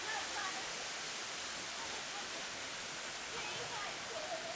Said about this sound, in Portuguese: Vou dar um mergulho agora nessa ducha aqui.